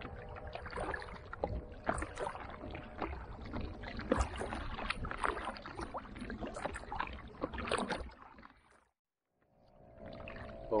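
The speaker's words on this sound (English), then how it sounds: "Paddling into the wind, absolutely beautiful breeze in my face." Kayak paddling into the wind on a Scottish loch, with repeated paddle strokes and water splashes over a gusty breeze, briefly dropping to near silence before resuming.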